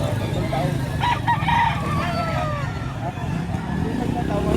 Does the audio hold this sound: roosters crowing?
yes